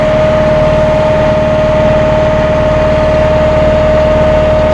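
A Massey Ferguson 5710 Global Series tractor with a Dyna4 transmission runs its engine at full throttle with the PTO engaged, giving a constant, loud, steady drone and hum with no change in pitch.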